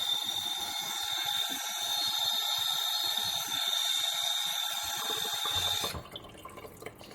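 Hot water runs from a tap into a cup in a steady, bright stream, then cuts off abruptly near the end, leaving faint room noise.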